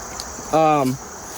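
Honeybees buzz at a hive during an inspection, with one brief, close, steady drone lasting about half a second over a quiet background.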